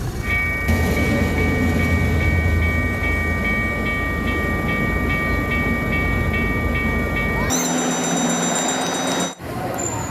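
A train rolls past a level crossing where a bus sits waiting, a steady loud rumble of rail cars with sustained horn-like tones, then the pitch shifts and a brief whistle sounds near the end before the noise drops away.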